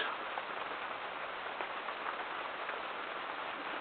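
Steady rain falls outdoors in October, a dense even hiss of drops on surfaces that stays constant throughout, with no voices.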